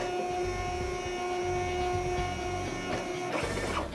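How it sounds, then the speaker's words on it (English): A Zebra R110Xi4 RFID label printer feeds a few labels during automatic calibration, giving a steady close mechanical whir with tonal hum and a brief louder rattle of feeding near the end. "The printer feeds a few labels and automatically calibrates that label."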